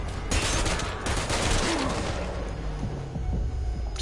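Sniper and other gunfire in the video game Metal Gear Solid V: The Phantom Pain, a loud, dense barrage of overlapping shots that thins slightly toward the end, with no talk.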